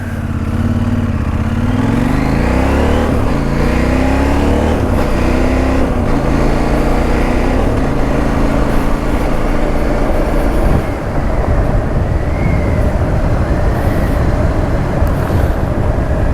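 A CF Moto 800MT motorcycle in off-road mode riding a gravel fire road, its engine droning loud and close with shifting pitch over a constant rumble of tires and wind, with no talk.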